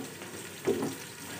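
Onions cook in a pan with a soft, steady sizzle and a brief stirring scrape in the middle of a short stretch.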